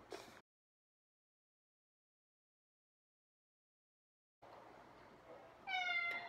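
A house cat gives one short, rising meow near the end, close by, after a long stretch of silence and some low room noise.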